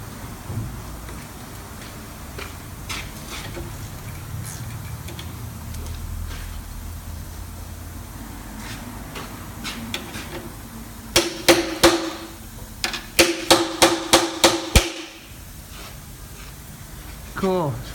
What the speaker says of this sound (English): let's just clean that nut off a little bit